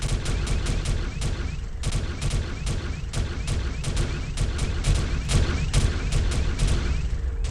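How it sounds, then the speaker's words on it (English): Rapid, sharp cannon shots crack out in a dense, fairly steady barrage, dozens of distant-sounding bursts over a continuous low rumble, with no talking. "It is cannon fire."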